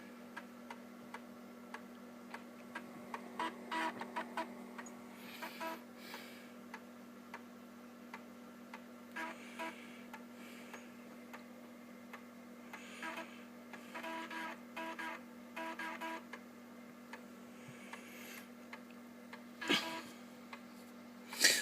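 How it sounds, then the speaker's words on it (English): An old IBM ThinkPad 760E laptop starts up, its steady electrical hum running under a series of faint irregular clicks, ticks and seeks from the drives, close and quiet with no talk. "So I'm just now going to start it without CD-ROM support."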